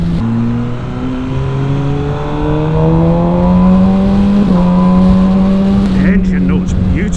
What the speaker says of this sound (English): The engine note's beautiful, it's lovely.